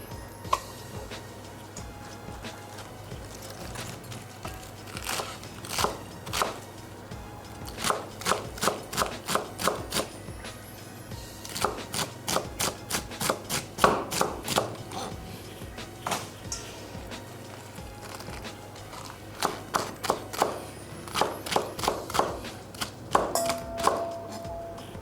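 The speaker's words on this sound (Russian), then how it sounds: "Все, капусту порезали." A knife chops through hard cabbage stems for a crisp salad with mandarins, in quick bursts of sharp, close taps on a cutting board, pausing between runs of strokes.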